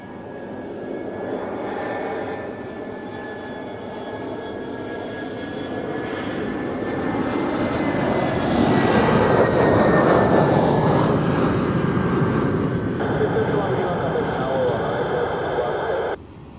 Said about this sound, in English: That was a Swiss A320 from Vienna.